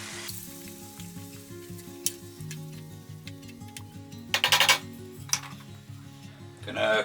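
Water poured into a pan of sizzling pork mechado brings a steady hiss of frying, with a few sharp clinks of a utensil against the pan and bursts of louder spattering.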